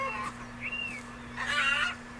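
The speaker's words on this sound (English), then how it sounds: "let's chase some chickens" Chickens in the video game Beyond Eyes give a few faint, short clucks and squawks over a quiet steady hum.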